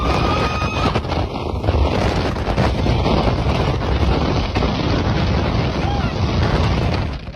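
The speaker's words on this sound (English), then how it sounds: "Strong winds turned a simple ski lift ride into an extreme adventure." Strong wind buffets the microphone during a ski lift ride, a loud steady broadband roar with gusty rumble throughout, and a voice faintly under it.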